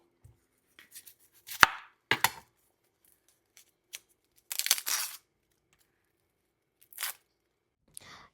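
A knife cuts onions lengthwise on a board in a home kitchen, giving a few sparse, crisp chops and crunches separated by quiet gaps, close and alone.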